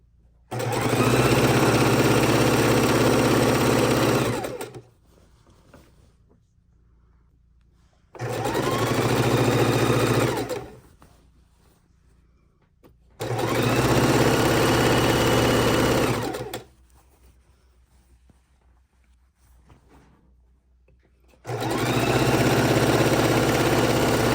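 A sewing machine stitches borders onto a pastel house quilt, running in four long, loud, steady bursts of rapid whirring, each several seconds long, separated by quiet pauses.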